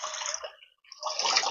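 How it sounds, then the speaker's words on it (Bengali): A packet of milk pours into a pot in a home kitchen while rice-flour rasgulla pithe is being made, giving a short liquid splash that stops briefly and then resumes, close and fairly loud. "1 প্যাকেট দুধ এরকম ঢেলে দিন।"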